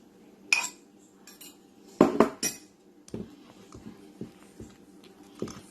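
Two eggs being beaten with a fork in a bowl for homemade waffle batter: quiet close clinks and taps of the fork against the bowl, a quick cluster of louder strikes, then softer irregular whisking taps.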